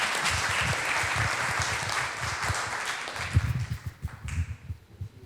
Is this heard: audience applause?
yes